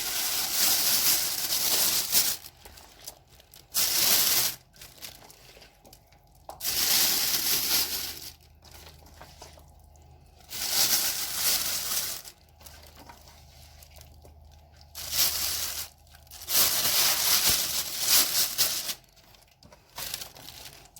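Oven bags crinkle and rustle in repeated bursts as they are handled and filled with green bean stew in a kitchen, with quiet pauses between the close crumpling sounds.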